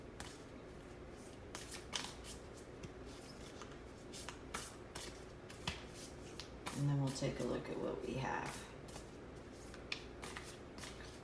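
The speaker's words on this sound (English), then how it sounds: "More shuffles here." Oracle cards from a liquid crystal deck being shuffled in repeated crisp riffling bursts, close and fairly quiet, with a person speaking briefly over the shuffling.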